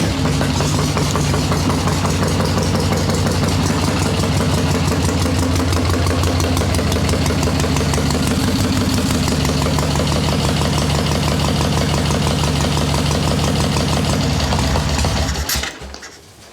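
A swap meet chopper motorcycle engine idles loud and close with a rapid, slightly uneven chugging beat and intermittent pops, running steadily for about fifteen seconds before cutting off abruptly at the end.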